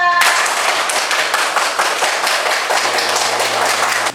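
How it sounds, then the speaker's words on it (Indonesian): A school class of children claps their hands together in a classroom, loud and close, with brisk overlapping claps sustained steadily and a faint tone entering near the end. "boleh beri tepuk tangan untuk kita semua"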